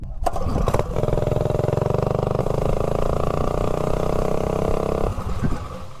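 A mini bike with a Tillotson 212 engine, Mod 2 build and 5.8 to 1 gear ratio, revs up hard as it accelerates, a loud buzzing engine roar climbing steadily in pitch and then easing off.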